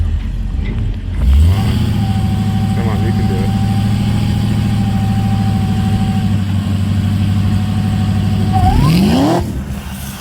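A drag race car launches at a test session, its engine roaring loudly and steadily up close before abruptly cutting off near the end, with the launch shuddering through the sound.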